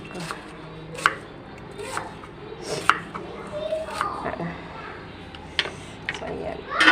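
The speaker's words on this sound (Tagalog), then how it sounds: "Pahiwain nyo ng sibuyas." A knife slices onion at a home kitchen counter for chicken curry and biryani, giving scattered, irregular cuts and taps amid background voices and household noise.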